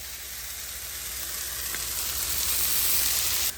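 Blackened fish frying in a hot pan gives a steady, close sizzle that swells slightly louder toward the end, with no talking.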